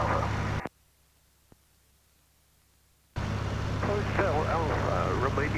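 Steady drone of a North American Navion propeller aircraft engine in flight, loud and close from the cabin, cutting out abruptly for a few seconds before returning under some cockpit chatter.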